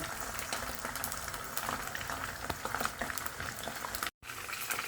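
Fish fries in hot oil, a dense continuous crackling and bubbling sizzle heard up close at low volume, with a brief dropout near the end and no talking.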